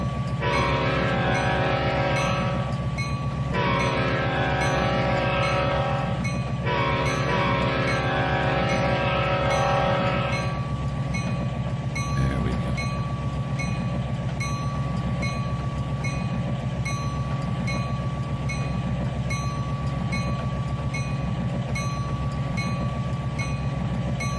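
Simulated train rolling on rails in the railway game Trainz 2019, a loud continuous rumble with steady wheel noise and a sustained tonal hum that cuts out briefly a few times early on, no talking.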